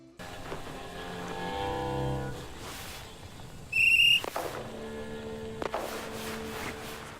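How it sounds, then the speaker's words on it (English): A single short, shrill whistle blast, one of several recorded at different lengths and strengths, cuts sharply through low, steady background rumble and scattered noises. "I really wanted to do a bunch of different lengths of the whistle, how hard I was hitting the whistle"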